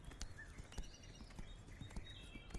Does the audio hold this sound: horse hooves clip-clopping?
yes